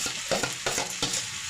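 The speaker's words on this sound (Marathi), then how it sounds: "आता मस्त अशी बटाटी मी परतून घेते" Turmeric-coated potato pieces being sautéed in a spiced tempering for Marathi batata vada, a close sizzle broken by several short stirring scrapes.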